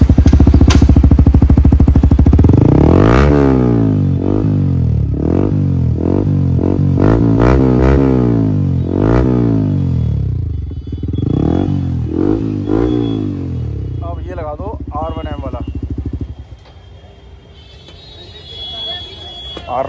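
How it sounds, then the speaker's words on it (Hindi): Yamaha R15 V4 sport motorcycle with an aftermarket twin exhaust, revved up and down in a series of loud, close rising-and-falling blips before settling to a lower idle. "इसका और सुन लेते हैं क्योंकि अभी तक सबसे ज़्यादा जो बेस्ट साउंड आता है, ना तेज ना ज़्यादा, तो ये दो एग्जॉस्ट है"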